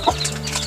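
A chicken gives a brief, close cluck, one short throaty note that sits over a steady low background hum.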